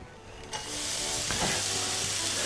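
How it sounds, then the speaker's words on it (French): Onions and bacon lardons hit a hot pan and settle into a loud, steady sizzle and hiss that holds after a sharp start, with light scraping now and then. "nous allons faire griller les oignons et les lardons"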